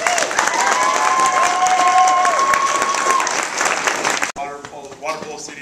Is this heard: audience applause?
yes